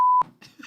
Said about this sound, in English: Just random beeps.